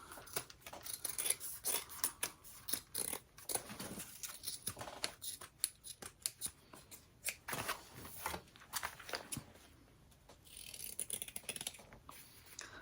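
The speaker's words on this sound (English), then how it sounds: "Trim off any excess." Scissors snip away excess fabric while a cross-body sling bag is being made, giving a close run of short, crisp cuts and rustling over the whole stretch, with a brief quieter pause near the end.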